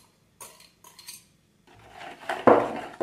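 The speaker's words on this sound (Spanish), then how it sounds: "Volvemos a batir hasta que se integre bien todo." Apple cake batter with fruit yogurt is beaten in a bowl. A few short scrapes and clinks of a utensil are followed by louder, faster beating strokes at close range.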